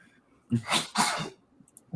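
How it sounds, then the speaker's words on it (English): Two sharp bursty sneezes in quick succession, close and fairly loud, followed by a brief breath. "Why am I sneezing?"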